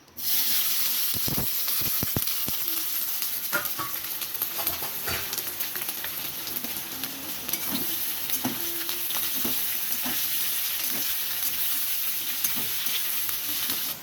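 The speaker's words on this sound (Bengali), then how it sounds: "পেঁয়াজটা এখানে ভাজা চলছে" Onions sizzle and hiss steadily in a hot wok, with occasional scraping stirs and clicks over the constant frying noise.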